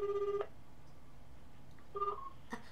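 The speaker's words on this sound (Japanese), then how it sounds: "西健さんにちょっとお電話してみたいと思います" A telephone being dialed for a call, with a few clear beeping key tones in short bursts, close and distinct over a quiet background, then a faint click.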